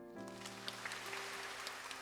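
An audience at a Korean patriotic content contest ceremony applauding, steady soft clapping that continues across the whole moment with no clear voice over it.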